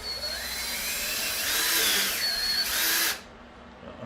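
A power drill whines close and loud during the restoration of a 1970s bar, its pitch rising as it bites, then cuts off abruptly near the end.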